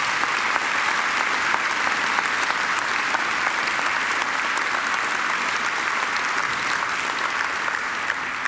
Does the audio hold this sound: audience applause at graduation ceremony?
yes